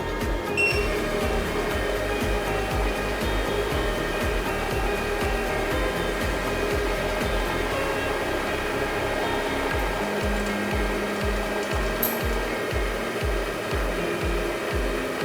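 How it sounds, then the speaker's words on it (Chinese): An automatic egg frying machine runs its oil-line air purge, giving a continuous, even mechanical whir and hum with a few faint clicks, close and unbroken throughout. "这个是排空油管气体，然后我们需要长按这个"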